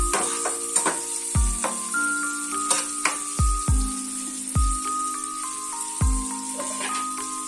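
Capsicum sizzles and fries in a pan while a utensil stirs it, producing a steady bright hiss broken by repeated sharp scraping knocks against the pan.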